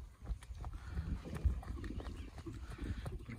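Hooves of a six-year-old gelded purebred Lusitano horse clip-clop steadily at close range, a continuous rhythmic thudding over a busy outdoor background.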